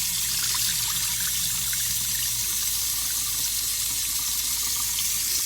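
Rice being washed under a running kitchen tap, a steady close hiss and splash of flowing water into a sink that continues unbroken, with no voices.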